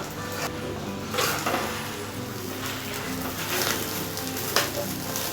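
An egg omelette fries on a dosa pan with a steady close sizzle and crackle, swelling briefly in a few spots as it cooks.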